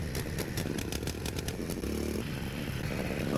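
Restored old industrial engine running, a close chugging motor with a rapid rhythmic clatter and a brief change in pitch partway through.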